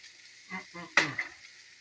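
A short sizzle as hoisin sauce is poured into a frying pan of pork and vegetables, with a brief hiss and a couple of soft clinks of utensils.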